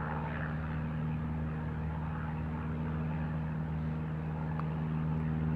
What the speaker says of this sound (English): I didn't even see him until I heard him warming up the engine